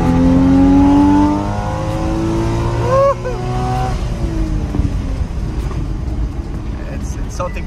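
A Porsche engine in sport plus mode revs and accelerates with a loud rising roar that drops off, heard from inside the car, followed by road and wind noise.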